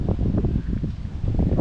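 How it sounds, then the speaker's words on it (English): Steady wind gusting into the microphone, a constant low rumble with buffeting rises and dips, no voices. "It's pretty windy out here."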